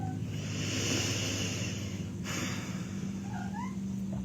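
A faint, short cat meow or two near the end, over a steady low hum and background noise.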